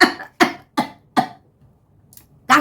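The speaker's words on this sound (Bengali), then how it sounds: "কাশি চলে আসলো, বুঝলে?" A person coughs four times in quick, harsh bursts, goes quiet for about a second, then coughs once more, close and loud.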